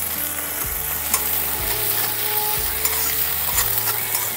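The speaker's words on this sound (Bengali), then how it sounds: "তেলটা গরম হয়ে গেছে, দিয়ে দিচ্ছি কারি পাতা, আদা কুচি আর কাঁচা লঙ্কা কুচি।" Curry leaves, chopped ginger and green chili fry in hot oil with a loud, even crackling sizzle that continues without a break, while music plays beneath it.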